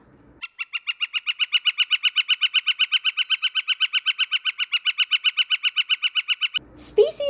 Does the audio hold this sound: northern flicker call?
yes